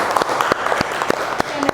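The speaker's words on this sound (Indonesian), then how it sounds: "tepuk tangan dulu untuk kelompok 1" A classroom audience claps for a student group that has just finished presenting, steady applause running through the whole short stretch with a few sharper individual claps standing out.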